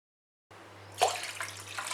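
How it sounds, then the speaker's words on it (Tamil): About three cups of water are poured into a kadai, a soft, close splashing stream that starts after a brief silence and continues quietly. "இப்போ கடாயில் வந்து 3 கப்பு தண்ணி சேர்த்துக்கிறேன்"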